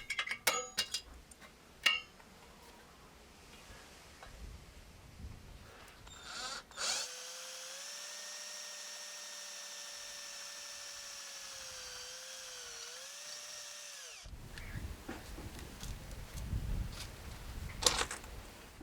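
A power drill runs steadily for several seconds, boring into a steel bolt head, a sustained whine with a slight dip in pitch before it cuts out, framed by clinks and handling noises.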